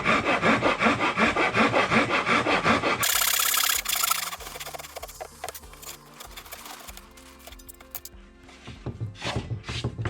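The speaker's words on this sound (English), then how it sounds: "Trying not to cut into the back of the plywood there." A handsaw rasps rapidly through plywood on a Chris Craft boat's center deck, loud and rhythmic for about three seconds, then gives way to music with lighter scraping.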